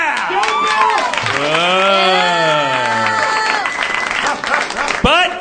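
A live audience at a comedy podcast's tabletop role-playing game show cheers and applauds, with a loud drawn-out voiced whoop rising and falling over steady clapping and crowd noise, ending in a few sharp claps.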